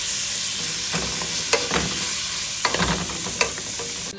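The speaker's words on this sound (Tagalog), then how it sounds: "Ating igigisa ang karne ng baka with sitaw" Beef and string beans sautéing in a hot pan give a steady sizzle, broken by intermittent scraping and clinking stirs from a utensil, close and moderately loud, with no talking.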